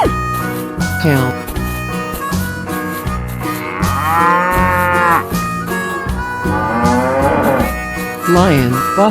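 A cow moos loudly and close by in long, drawn-out calls, one after another with brief gaps, over a low musical bed.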